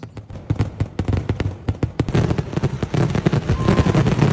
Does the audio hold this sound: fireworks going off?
yes